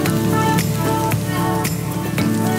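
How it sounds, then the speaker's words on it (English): Mushrooms frying in hot oil in a pan while a vegan pasta dish is cooked: a steady, close, bright sizzle, unbroken and without speech, with faint stirring scrapes now and then. "So get this heated up, thereafter heat some oil. So I'm gonna start off first with some mushrooms."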